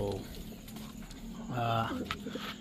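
Pet birds in a backyard flock give low, throaty coos in short bursts near the start and again mid-clip, close by, over steady background noise with a voice-like murmur mixed in.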